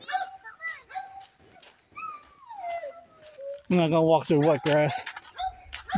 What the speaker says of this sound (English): barking his head off